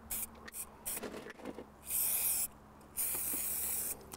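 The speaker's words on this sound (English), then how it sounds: "It's a plastic spray that you spray on, so you will not get an infection." Plastic wound spray hisses onto a hand outdoors by a river, two sustained sprays of about half a second each amid shorter rustling and handling sounds.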